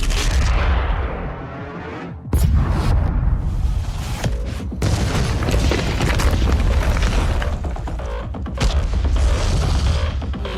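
A rocket launch fires in a DOOM game cutscene: a loud booming blast erupts after a brief lull, followed by sustained roaring thrust with crackling bursts and another surge near the end.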